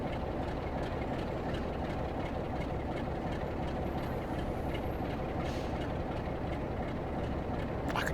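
Diesel locomotive idling in Train Sim World 2 on a West Cornwall line, a steady low rumbling throb that holds at an even level throughout with no talking over it.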